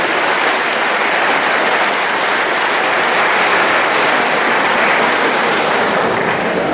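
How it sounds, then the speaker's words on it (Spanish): A large audience at a guitar music performance applauds loudly and continuously, a dense wash of clapping that holds steady throughout. "Fuerte el aplauso para ellos."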